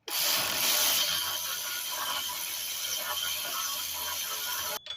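Rapid ratchet clicking runs steadily as a wrench tightens the lug nuts on a rear wheel hub of a 2017-2020 Hyundai Elantra during a hub bearing replacement, close and continuous, stopping sharply near the end.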